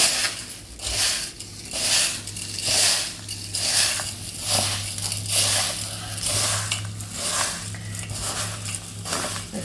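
Puffed rice being mixed with onion by hand, steady crunchy rustling in repeated rhythmic bursts, close and fairly loud, with a low hum underneath.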